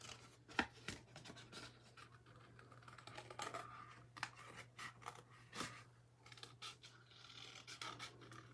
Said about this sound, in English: we are going to really quickly just cut out my angel